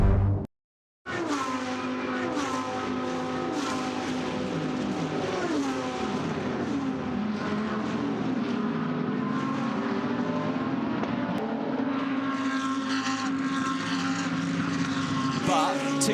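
A BMW DTM race car overtakes a Porsche around the outside, loud high-revving engines howling close by, the pitch climbing and shifting through gears with a brief cut near the start.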